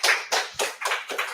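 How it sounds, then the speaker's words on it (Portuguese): Small audience at a live-streamed tech event giving a round of applause, several short bursts of clapping with brief gaps between them, fairly close. "Salva de palmas, pessoal."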